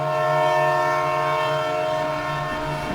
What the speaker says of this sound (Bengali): কিছুক্ষণ পর ট্রেন এসে দাঁড়ালো।